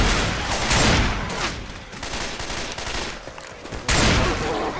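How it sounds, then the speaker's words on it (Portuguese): Rapid gunfire from a zombie-shooting game in Left 4 Dead 2, with dense continuous bursts of shots lasting several seconds and a fresh loud volley near the end. "Ô Eduardo, só baixa um tiro pra matar o zumbi, cara."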